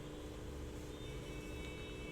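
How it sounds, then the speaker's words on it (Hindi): Street traffic rumbles steadily in the background, a constant low drone of passing vehicles with a faint electrical hum, no talking. "ट्रैफिक की नॉइज़ आ रही है क्या यहाँ पर?"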